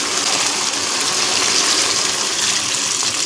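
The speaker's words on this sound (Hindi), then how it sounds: "5 मिनट भुनाई के बाद अब हम इसमें डाल देंगे पानी।" Steady rushing of about two cups of water being poured into a cooking pot of browned mutton korma, a continuous hissing gush with no talking.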